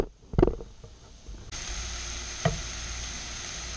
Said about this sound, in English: we're going to go ahead and get those sauteed down